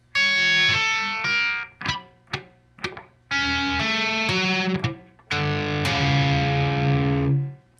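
An electric guitar with distortion plays triplet figures from a song's riff. It is loud and close, with sustained distorted phrases broken by short staccato picked notes, and nobody talks.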